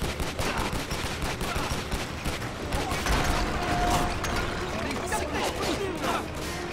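Gunfire in the video game Stranglehold, dense rapid bursts of shots and clattering impacts throughout, loud and continuous, with a voice talking over it.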